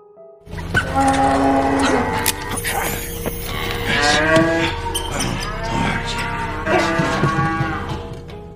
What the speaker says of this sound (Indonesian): Ketika satu malam Will mendengar suara erangan ternak sapinya.